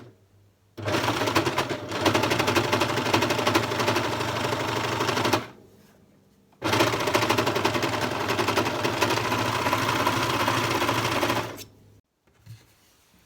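Success Lucie overlock serger stitching a hem with a four-thread overlock stitch, two loud steady bursts of fast mechanical whirring, each several seconds long and separated by a short pause.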